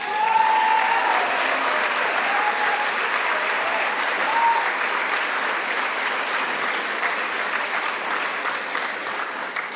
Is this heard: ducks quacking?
no